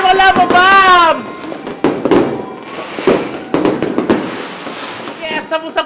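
Fireworks bursting during a New Year celebration: a series of sharp, loud cracks and booms at irregular intervals, with crackling tails between them and a person's voice rising over the blasts at the start and end.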